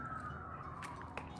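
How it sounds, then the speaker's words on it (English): An ambulance siren passes at a distance, a quiet wavering tone sliding slowly downward over a low outdoor rumble, with no voices. "Right now, there is ambulance passing by"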